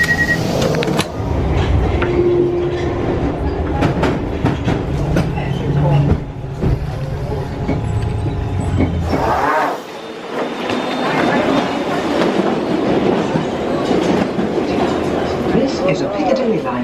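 A London Underground Piccadilly line train runs loudly and close, with a rumbling, rattling ride and clattering wheels that ease briefly before the noise builds again; a voice talks partway through.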